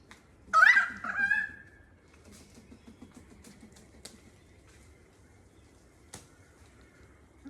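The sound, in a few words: birds calling near a beach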